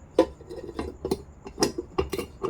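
A glass shade is set into an Emak flush mount ceiling light fixture, giving a few close, quiet clinks and light taps spread over a couple of seconds.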